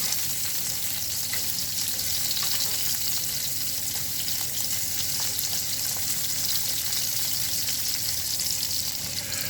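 Shrimp fry in a pan with a dense, continuous, loud sizzle that stays even throughout, with no voices.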